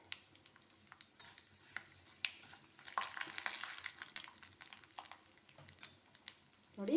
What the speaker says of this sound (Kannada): ನೋಡಿ ಸಾಸಿವೆ ಚೆನ್ನಾಗಿ ಸಿಡಿತಾ ಇದೆ.